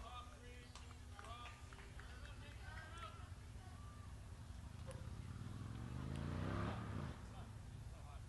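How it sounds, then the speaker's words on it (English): At a baseball game, a loud vehicle, likely a motorcycle, swells from the background and passes, rising to a peak near the end, while people talk over it. "Pretty sure that's a motorcycle"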